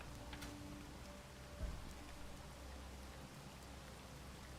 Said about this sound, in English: have you noticed they've changed the rain a little bit? It no longer rains through blocks in Space Engineers